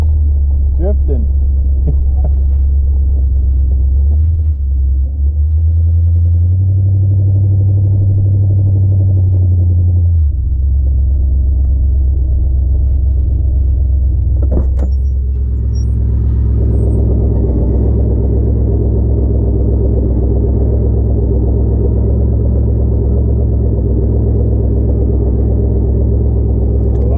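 A 1980 Buick Regal engine running at a high idle that won't settle down, a loud, steady, throbbing rumble that stays close. The low drone shifts in tone partway through and continues unbroken to the end.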